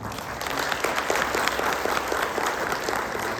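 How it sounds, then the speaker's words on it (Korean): A conference audience applauds steadily after an invited talk, a dense wash of many hands clapping at moderate volume, continuous throughout with no talking. "큰 박수 부탁드립니다"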